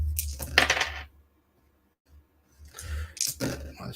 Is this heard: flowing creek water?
no